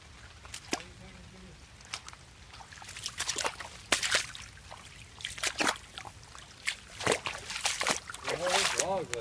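Floodwater flows and sloshes across ground near an elementary school on English Road in Hampton, Georgia, with irregular splashing bursts under frequent nearby talk.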